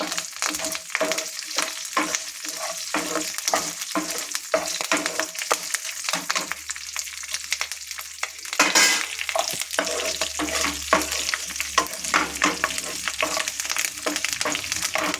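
Green chillies and curry leaves fry in hot oil with cumin and mustard seeds in a pan for Telugu-style potato fry, a steady crackling sizzle broken by repeated stirring scrapes throughout, with a louder spitting burst midway and no talking.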